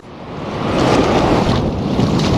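Sea water surges and crashes at the South Shields seaside, a loud, continuous rush of surf and spray swelling after a quiet start, with wind buffeting the microphone.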